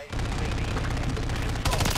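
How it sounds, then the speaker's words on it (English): Sentry gun in a video game firing a dense, continuous burst of rapid shots, loud and close, with the rattle going on for the whole stretch and slightly heavier at the end. "The sentry gun is actually pretty good."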